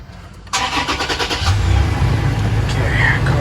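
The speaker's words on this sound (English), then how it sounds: "Car's on." A car engine cranks and catches, then settles into a steady idle. The cranking is a quick series of rhythmic pulses, and the idle is loud and close.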